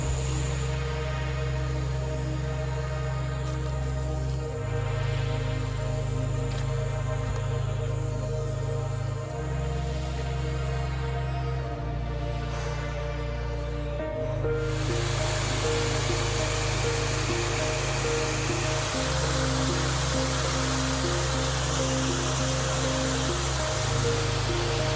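Waterfall beside a jungle hiking trail near Ipoh, Malaysia, roaring as a steady, broad wash of falling water, loud and continuous, with a low rumble that shifts slightly throughout and no talking.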